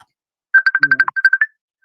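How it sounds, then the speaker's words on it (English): A phone ringtone plays a quick series of bright electronic beeps in a rapid rhythm, close and clear against otherwise quiet surroundings. "oh, somebody's phone ringing."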